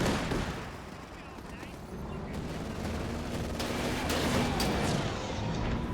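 Land Mattress rocket barrage in a World War II strategy video game, a sustained rumbling roll of distant explosions and gunfire filling the whole stretch, with voices talking over it.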